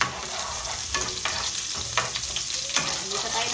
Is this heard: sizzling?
yes